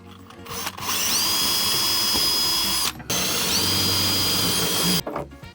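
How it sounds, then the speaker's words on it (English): A power drill drilling pilot holes in a camper van build whines at high pitch in two long bursts, briefly stopping in between, close and loud, with a short clatter at the end. "Just gonna drill these through with the pilot."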